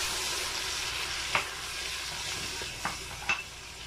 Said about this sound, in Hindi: अब इसमें हम ये टमाटर का पेस्ट डाल देंगे